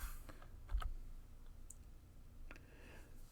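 A few faint keystrokes on a computer keyboard while entering a value in CAD drafting software, soft isolated clicks over a quiet background hum.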